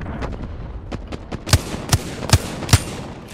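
Wingman pistol shots ring out in Apex Legends: four loud, sharp cracks spaced evenly about a beat apart, preceded by fainter distant gunfire.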